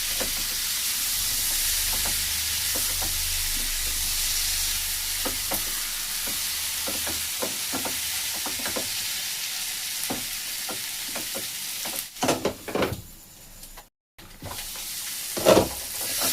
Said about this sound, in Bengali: সুন্দর ভাজা ভাজা হয়ে যাচ্ছে।